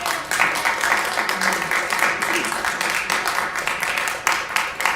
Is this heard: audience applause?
yes